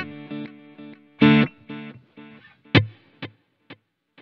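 Electric guitar with drive through delay and spring reverb pedals, a few distorted notes and a loud chord stab, then sharp muted hits that ring out and fade, played alone and close.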